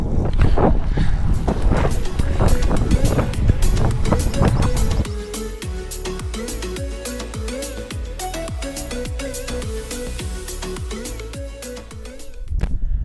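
Steady, heavy wind buffeting a lavalier microphone outdoors, loud and rumbling at first, then easing into a lower roar with some faint tonal sounds beneath.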